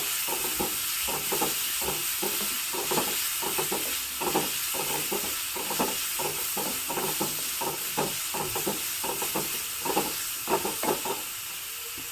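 Capsicum frying in hot tempering oil gives a continuous bright sizzle, with a steady rhythm of stirring strokes scraping the pan throughout, close and alone.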